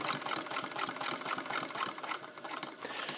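Restored Singer 301A rotary sewing machine stitching slowly, a close mechanical whir with soft, regular needle ticks repeating at an even, unhurried pace.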